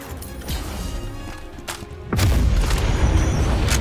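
Deep booming blast from a weapon firing sequence in a zombie video game, a loud low rumble erupting midway and sustaining over busy game noise.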